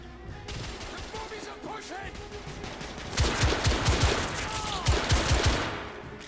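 Loud, sustained automatic gunfire in the steampunk shooter The Order: 1886, steady under game noise at first, then heavier rattling bursts with deep booming impacts in the second half.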